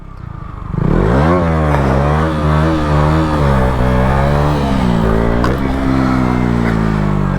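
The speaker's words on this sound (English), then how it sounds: "just rev it, and then you release the clutch at the same time." A 125cc four-stroke motorcycle revs up sharply and pulls away for a wheelie, its close, loud engine note climbing and wavering through several gear-held surges with no talking.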